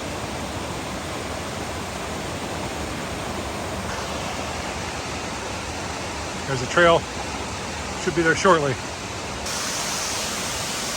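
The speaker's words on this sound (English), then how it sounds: "This is one of the most amazing waterfalls I've seen." Flat Creek Falls in Nantahala National Forest gives off a steady, broad rushing roar that fills the whole stretch, while someone speaks briefly over it.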